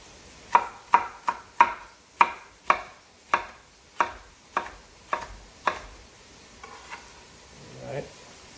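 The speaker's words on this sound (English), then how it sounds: "You cut carrot anyway for the soup, but you don't cut them too small" Carrots for lentil soup cut with a knife on a board, about a dozen sharp evenly spaced chops, close and clear, then a brief soft rustle.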